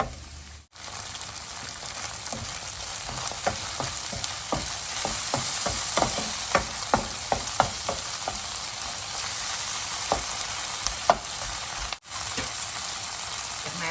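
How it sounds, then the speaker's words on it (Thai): Canned tuna stir-fried in a pan for a potato pasta dish: a steady close sizzle with repeated scraping and tapping of a spatula against the pan, running throughout with no talk. "เราก็จะเอาปลาทูน่านะคะกระป๋องลงไปผัดด้วยนะคะ"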